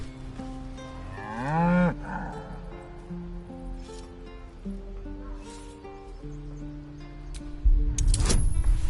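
An ox lets out a loud, rising, drawn-out moo near the start, set against a low mechanical hum and later clatter.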